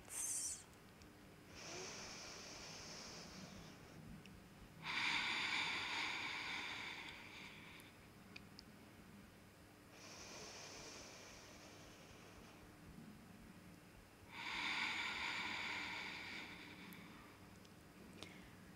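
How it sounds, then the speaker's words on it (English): Slow deep breaths held in a high lunge yoga pose, four long airy exhales or inhales spaced several seconds apart, close and steady with no talking. "We are holding it here for 3 deep breaths"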